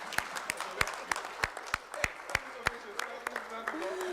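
Clapping at the closing session of an African notaries' congress as delegates approve recommendations, a sparse, fairly slow run of individual sharp claps from a few hands, with murmured voices underneath.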